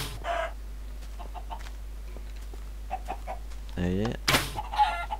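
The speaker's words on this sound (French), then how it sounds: "Donc là je vais spawner un maximum de poules." Minecraft chickens spawned in a cluster give a burst of clucks and squawks near the end, with a single short word spoken over a quiet game background.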